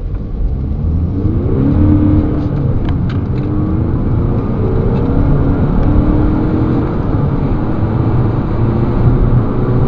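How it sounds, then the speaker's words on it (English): An Audi A5 S line 2.0 TDI from 2010 accelerates hard from 0 to 60, with a steady, loud engine drone and rising pitch heard from inside the cabin through a couple of gear changes. "I'm going to do an 0 to 60 test now in a moment to show you"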